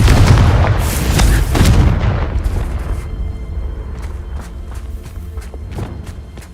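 A booming Confringo spell explosion in a video game, loud and rumbling at first, then fading into a scattering of softer thuds and footsteps.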